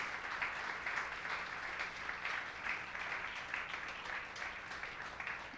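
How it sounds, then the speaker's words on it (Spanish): A church congregation applauds during a sermon, a faint, distant wash of many hands clapping in a steady rolling patter that holds evenly throughout. "dele un fuerte aplauso a Dios"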